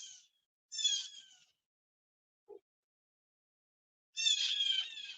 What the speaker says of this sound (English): Oh my God, they're going after my cat.